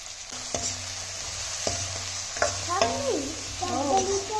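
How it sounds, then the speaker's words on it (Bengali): Grated ginger, beans, carrot, capsicum and onion frying in a pan, with a soft sizzle under several sharp utensil clinks, while a voice talks intermittently over the cooking. "গ্রেট করা আদা, একটু ভেজে নেবো। বিনস, গাজর, ক্যাপসিকাম,"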